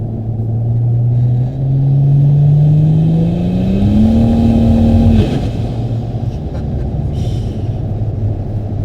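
A 1000 hp turbocharged Barra-engined car accelerates hard, its loud close engine note rising steadily in pitch over about five seconds before dropping back to a heavy rumble.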